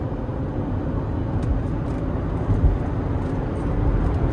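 A 2005 Chevy Equinox accelerates along a road, heard from inside the cabin as a steady low rumble of engine and road noise with no clear shift breaks.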